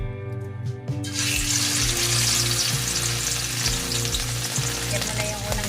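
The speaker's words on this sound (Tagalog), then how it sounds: "Ipa-fry na natin yung ating fish." Bangus (milkfish) steak frying in a hot pan, a quiet start giving way at about one second to loud, steady sizzling and crackling oil that holds for the rest of the clip with no talk.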